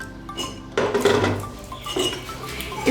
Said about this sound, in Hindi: अब हम इसको खोलेंगे।